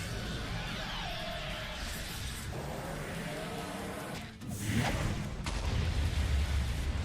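A Tailed Beast Ball in a Naruto mod of Minecraft charges with a rising whoosh, then erupts into a big rumbling explosion that rolls on loudly to the end.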